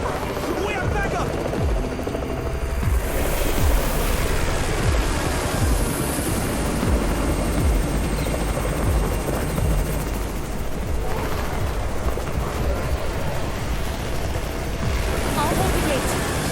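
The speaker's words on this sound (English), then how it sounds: "It's the Raven's chopper! We have backup!" A helicopter arrives in the video game Garena Undawn, its loud, continuous rotor thrum filling the scene, with sharp gunfire bursts cutting through along with a heavy, rushing background roar.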